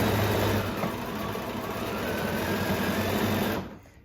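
A sewing machine runs steadily for free motion quilting, its fast even needle chatter close and continuous before stopping abruptly near the end.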